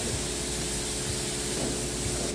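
A pressure washer sprays water steadily onto a car to rinse off a foam pre-treatment, a loud, close, unbroken hiss that cuts off abruptly at the end.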